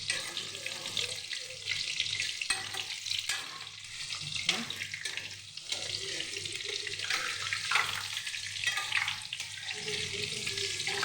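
Pumpkin pakora frying in hot oil while being stirred, a constant bright sizzle broken by scraping stirs and bursts of bubbling, fairly quiet and close, with a little speech.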